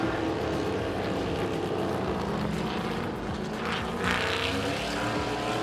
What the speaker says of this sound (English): Listen to the engines roar as they accelerate out the corners.